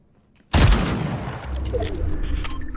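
Burst of SMG gunfire in the Fortnite video game, a loud sudden volley that breaks out of near silence and then rattles on steadily with continuous shots and battle noise, with no talking.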